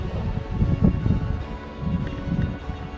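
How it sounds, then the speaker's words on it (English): Strong gusty wind buffeting the microphone out on Lake James with whitecaps on the water, a low rumbling roar that swells and dips unevenly and stays loud and close throughout. "hopefully you can even hear me, it's so windy."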